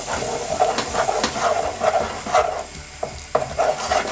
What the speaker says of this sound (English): Just put a little bit in, mix the butter.